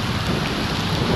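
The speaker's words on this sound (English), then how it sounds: "Heavy rain, beautiful." Heavy rain pours down as a dense, constant hiss and patter. The wash is loud and unbroken, with no voices over it.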